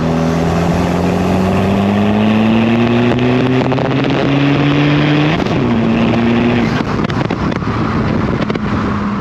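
A tuned 250bhp SEAT Ibiza FR TDi diesel track car accelerates hard, its loud engine note climbing in pitch, then dropping at a gear change before climbing again, with heavy wind buffeting on the microphone.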